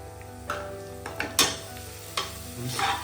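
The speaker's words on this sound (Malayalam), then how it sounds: "പിന്നെ ഈ മസാലേൻ്റെ പച്ച മണം പോകുന്നവരെ ഒന്ന് വഴറ്റണം." Biryani masala being sautéed for chicken biryani in a pan, soft sizzling under a few sharp scrapes and knocks of a spoon against the pan, irregular and close, with no talk.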